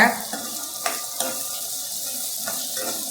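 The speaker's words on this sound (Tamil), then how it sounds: "இப்போ இந்த வெங்காயம் வந்து பச்சை மிளகாய், வெங்காயம், இந்த கடலைப்பருப்பு எல்லாம் ஒரு கலரி விட்டுட்டு" Onion, green chilli and chana dal fry on a high flame, giving a steady loud sizzle with a few faint clinks of stirring and no talk.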